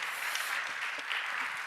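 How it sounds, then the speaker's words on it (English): An audience applauds award winners at a foundation awards ceremony, a steady wash of clapping hands from a sizeable crowd in a hall, moderately loud and continuous. "So a big round of applause for all of our Middle East and Africa winners, please."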